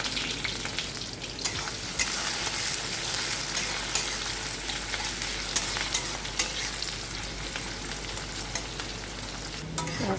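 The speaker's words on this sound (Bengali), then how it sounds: "এবার দিয়ে দিলাম পেঁয়াজ। পেঁয়াজটা লাল লাল ভাজা ভাজা হওয়া পর্যন্ত পেঁয়াজটা ভেজে নেব।" Onions hit smoking-hot oil and sizzle in a loud, steady hiss, with occasional sharp crackles and the clatter of stirring throughout.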